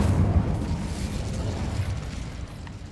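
A Bombarda spell explosion in Hogwarts Legacy booms as a loud, sustained low rumble that stays heavy for the whole few seconds and eases off slightly toward the end.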